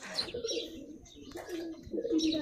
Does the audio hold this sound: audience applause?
no